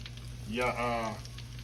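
Shrimp coated in Japanese breadcrumbs frying in hot grease, giving a soft steady crackle with a short voiced sound rising briefly over it midway, fairly quiet overall.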